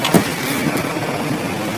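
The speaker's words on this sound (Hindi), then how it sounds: "पहले इंजन स्टार्ट कर लेता हूँ तब आपको दिखाता हूँ" A new-model Honda City car engine cranks briefly and settles into a quiet, steady idle, a smooth low hum heard close by with no talking.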